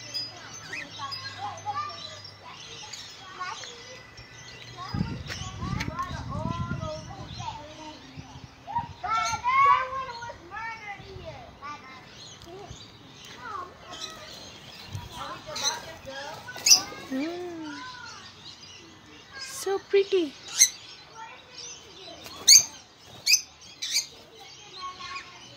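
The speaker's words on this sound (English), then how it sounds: "किसी के घर आए इनके birds भी रखे हुए हैं इतने प्यारे" Pet birds kept in a house chirp and tweet in quick, bright bursts throughout, fairly close, mixed with people talking and household noise.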